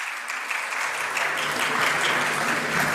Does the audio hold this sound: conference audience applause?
yes